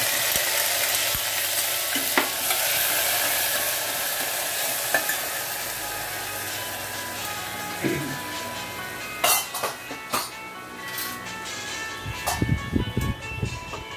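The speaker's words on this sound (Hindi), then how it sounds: "अब हम इसमें ये 2 प्याज का पेस्ट डालते हैं।" Onion paste with spices sizzles steadily in a pan, a continuous frying hiss punctuated by stirring scrapes and a few clinks of utensil on metal toward the end, with faint voice in the background.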